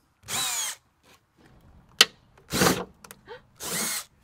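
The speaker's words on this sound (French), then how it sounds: "il ne faut pas percer avec en mode perceuse et en mode vitesse maximum" A power drill bores into the sheet metal of a van door in short bursts: three loud whirring runs with brief pauses, a sharp click between them, and faint handling noises in the gaps.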